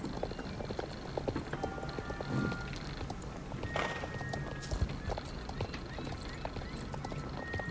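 Horse galloping during a race in the Star Stable video game, rapid rhythmic hoof clip-clops running steadily under game ambience, with brief chimes and effects over them.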